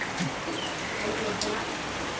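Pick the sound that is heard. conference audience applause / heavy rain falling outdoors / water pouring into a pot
heavy rain falling outdoors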